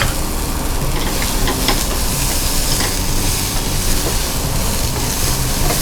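Steady, dense sizzling of chopped onion frying in hot oil until golden, loud and continuous with faint stirring clicks throughout.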